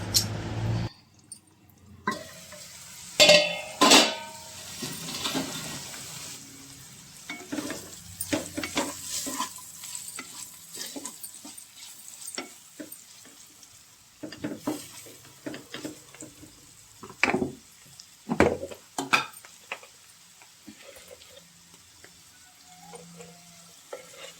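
Spiny gourd (boda kakarakaya) pieces frying in a pan, with soft sizzling broken by repeated sharp scrapes and clatters of a spoon stirring, close and alone.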